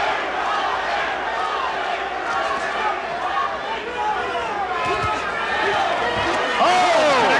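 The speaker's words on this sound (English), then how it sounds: "The crowd again starts the Larry chant" A boxing arena crowd chants for Larry Holmes during his fight with Evander Holyfield, a broad continuous roar of many voices, while a commentator talks over it.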